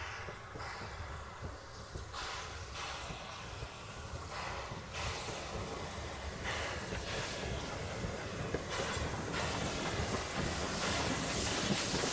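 A Terrier steam locomotive on the Isle of Wight Steam Railway rolls past the end of a station platform, giving a steady, fairly faint rumble and rattle of wheels and carriages that swells slightly, with wind buffeting the microphone.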